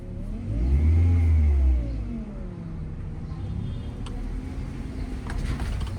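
A car engine revs gently under light throttle in third gear, rising into a brief low rumble and then settling to a steady running hum, moderately close, with no talk.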